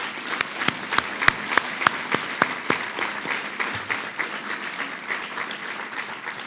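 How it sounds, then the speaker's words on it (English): A Rochester audience at a Governor Cuomo poverty-reduction funding announcement breaks into steady applause, with sharp, distinct claps standing out over a dense patter from the crowd before it settles into a softer, even clapping. "Let's give them all a round of applause."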